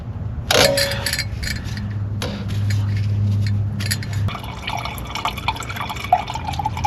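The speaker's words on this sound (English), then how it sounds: "this thing will never stop dripping unless you give the fuel filter housing a turn to break the vacuum on it" Diesel fuel drips from a loosened truck fuel filter housing into a catch container, heard as a few sharp plinks and clinks up close, with a low steady hum underneath and faint handling noise.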